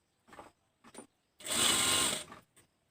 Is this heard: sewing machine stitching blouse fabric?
yes